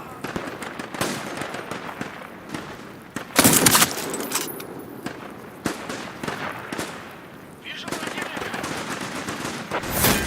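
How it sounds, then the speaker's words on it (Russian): Gunfire and a stun grenade in the shooter video game Caliber: bursts of automatic fire and scattered shots, a loud sharp blast around the middle, then more rattling fire, with radio-style voices talking between bursts. "Осторожно, граната! Шумовая граната!"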